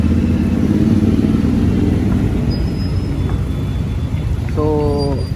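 A motorcycle's engine rumbles loud and steady while riding through traffic, with road noise, wind and a brief horn-like tone near the end.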